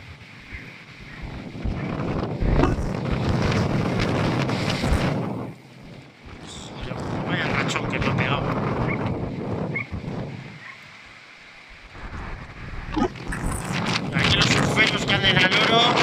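Strong wind gusts and surf at Laredo beach on the Cantabrian coast during a gale with 49-knot peaks, heard as loud roaring buffeting on the microphone that swells and eases in waves, with someone talking over parts of it.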